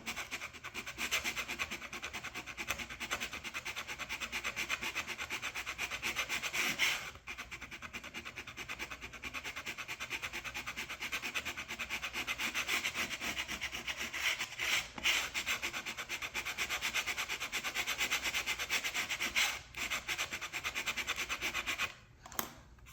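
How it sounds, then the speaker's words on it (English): Sandpaper rubbing along the wooden band and sheer strakes of a small model dory: a steady, close scratchy hiss that runs almost continuously, broken by a few brief pauses. "Whenever we sanded the band and the shear strakes down."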